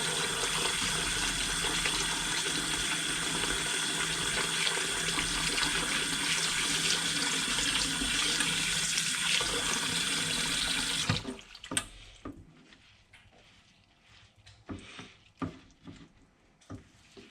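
Filtered water runs steadily from a tap into a sink while broccoli sprouts are dehulled, a loud continuous rush that cuts off abruptly, leaving faint splashes and handling noises.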